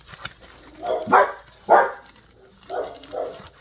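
Two dogs bark and yip in an uneven sequence, fairly close, with short pauses between bursts.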